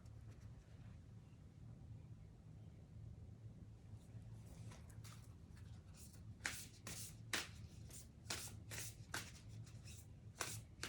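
A Rose Oracle card deck by Rebecca Campbell is shuffled close up: soft papery riffles for the first few seconds, then a rapid run of crisp, sharp card flicks and slaps.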